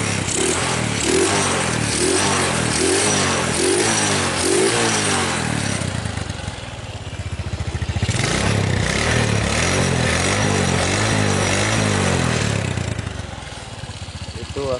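A Suzuki Smash motorcycle with a standard carburetor runs steadily after a kick start, its single-cylinder engine idling loud and close with a rapid, slightly uneven putter that briefly dips and then recovers.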